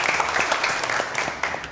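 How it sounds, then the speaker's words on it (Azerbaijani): An audience in a comedy show studio claps for Ceyhun as he is welcomed to the stage, with steady broadband applause throughout that stays alone, no talk. "Ceyhunu alqışlayaq."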